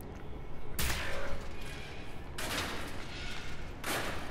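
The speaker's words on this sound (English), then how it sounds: "Oh, I need to shoot that, probably." Gunfire from Wolfenstein: The New Order comes as three loud, roaring bursts about a second and a half apart, with a steady noisy bed between them and no talk.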